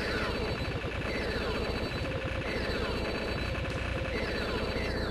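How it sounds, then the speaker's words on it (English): A spreader gun in the shooter Kyuuin firing continuously: a rapid, steady stream of small repeated shots with no break, fairly quiet and even from start to finish. "Spreader gun is really nice."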